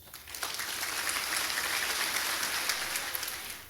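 An audience at a 2019 medical school graduation ceremony in Haiti applauds after a speech, a faint, steady wash of many hands clapping that swells quickly and carries on.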